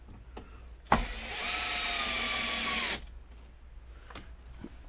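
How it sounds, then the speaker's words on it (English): A power drill bores into a wooden bed frame during a repair, running in one steady whine for about two seconds before stopping, with quiet room noise before and after. "and then I'm gonna drill this"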